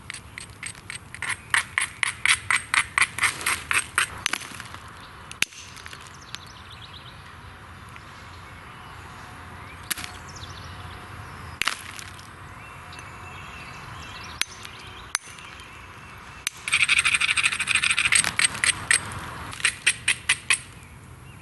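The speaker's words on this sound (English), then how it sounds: "I grind the edges to make it easier to peel those flakes off" Flint edges are ground with a coarse stone outdoors in the woods: rapid bursts of gritty scraping strokes, then scattered sharp clicks and taps, with a dense scraping flurry near the end.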